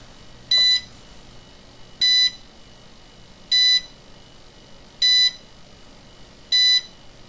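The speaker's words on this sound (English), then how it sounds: "Wait for the five beeps." Five short, evenly spaced electronic beeps from a Dynam ESC being programmed on an E-Razor 450 helicopter, each tone bright and identical, with quiet gaps between.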